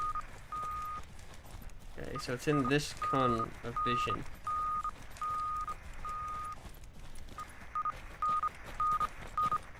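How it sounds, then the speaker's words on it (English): Treasure detector in the Deadside video game, emitting a steady series of short high beeps at a regular pace that briefly pauses and resumes, under someone talking over a low ambient rumble. "Take a look this way, so it beeps quicker as you get closer"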